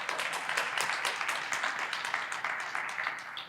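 A room full of people applauds during a talk, with steady, dense clapping that holds for a few seconds and then begins to fade.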